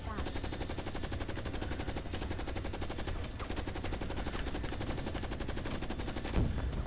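Rapid machine gun fire in the video game Carrier Command: Gaea Mission, a dense, continuous stream of loud, evenly spaced shots that keeps going throughout the clip.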